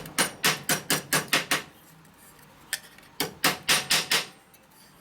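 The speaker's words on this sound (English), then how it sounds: "Fix out with a hammer right here." Metal hammer blows on a rusty, rounded-out part of a vintage Harley-Davidson motorcycle horn being rebuilt, two bursts of seven or eight sharp, ringing strikes in quick rhythm separated by a pause with one lone tap.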